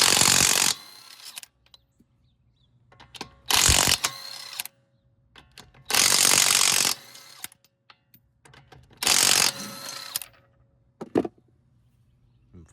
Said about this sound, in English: you want to take the lug nuts off